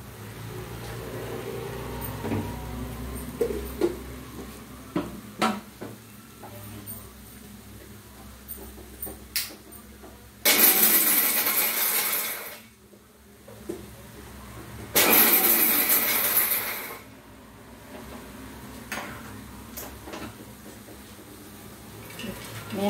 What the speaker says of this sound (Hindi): थोड़ा मिक्सी में मैं इसको हाफ क्रश कर लेती हूँ।